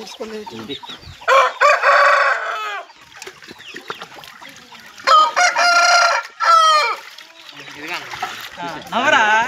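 Fighting roosters kept for Sankranti cockfights crow repeatedly and cluck nearby, several loud drawn-out crows rising over background bustle, with people talking between calls.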